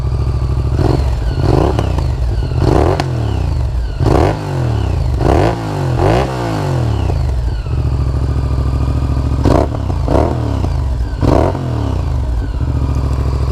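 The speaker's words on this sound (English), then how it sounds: "I'm gonna rev it a couple of times." A V-twin motorcycle engine idles and is revved several times, each blip rising sharply and falling back to a loud, steady, close idle, with some mechanical clatter between revs.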